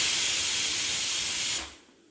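Steam hisses loudly and steadily from a pressure cooker whistle while chicken leg pieces cook in a curry, then cuts off abruptly, leaving near silence.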